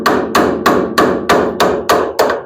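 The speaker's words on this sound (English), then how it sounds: "hammer that corner down" A hammer strikes a metal tail panel patch on a 1975 Plymouth Duster, eight loud, evenly spaced metallic blows in a quick steady rhythm, each ringing briefly with no talk.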